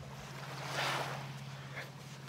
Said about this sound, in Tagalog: Ganda ng dagat, oh.